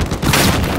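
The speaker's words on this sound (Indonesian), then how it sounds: "Granat." A grenade goes off in Battlefield 4 combat, a short, loud, close blast with a dense rumbling boom that fills the moment.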